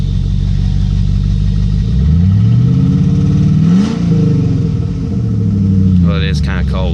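A 2001 Jeep Grand Cherokee 4.7 V8, first start in three months, is heard up close, its pitch rising and falling through several loud revs before settling, with a brief high squeal near the end.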